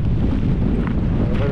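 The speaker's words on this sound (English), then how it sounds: "Although if it's windy like this" Strong wind roars steadily across a Scottish mountain pass on the way to Inchnadamph, buffeting the microphone with a loud, unbroken rush and low rumble throughout.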